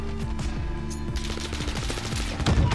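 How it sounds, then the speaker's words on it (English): Rapid bursts of AK-47 automatic rifle fire in the video game Modern Warfare, close and loud, with rhythmic shots rattling steadily and growing heavier toward the end, no talking. "So I just like an idiot shooting at the wall."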